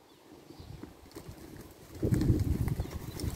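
A mini horse races after lambs in a field, its hooves drumming in a quick, loose run that grows louder and closer partway through, with faint bird calls behind.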